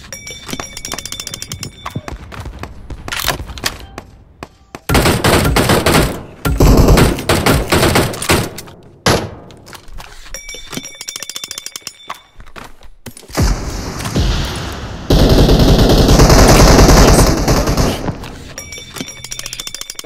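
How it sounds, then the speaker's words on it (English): Video game combat with a bomb strike: loud bursts of rapid gunfire and heavy explosions come in dense waves, broken by brief quieter gaps. "That was a bomb strike, guys?"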